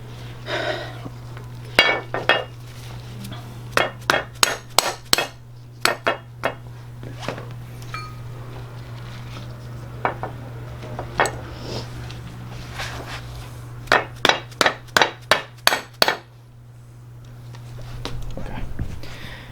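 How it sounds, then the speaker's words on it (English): Sharp metallic strikes of a mallet ring out in quick bursts of several blows, separated by pauses, with a low steady hum underneath, during a Honda Civic rear sway bar installation. "Can't fix anything without a hammer."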